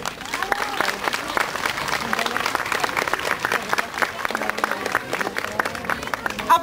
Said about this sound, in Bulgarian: Аплодисменти, освен за децата и за нашите родители